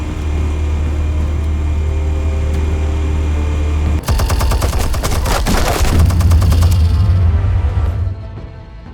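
Gunfire in Batman: The Telltale Series video game: after a low engine drone, a rapid machine-gun burst erupts, loud and close, rattling for about four seconds before cutting off into a fading rumble.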